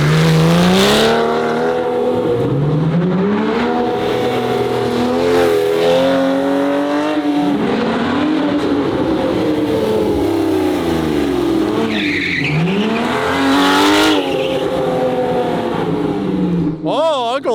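A 1300hp Nissan GT-R with a built motor is driven hard through a corner, its loud engine rising and falling steadily with revs while tires squeal as the car slides sideways; people talk over it.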